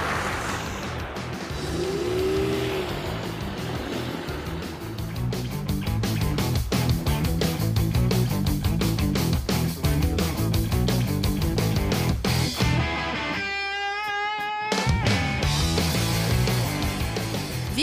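A car towing a trailer revs hard around a driving course. The engine roars on and off with repeated throttle bursts, loud and close throughout, with one short lull near the end.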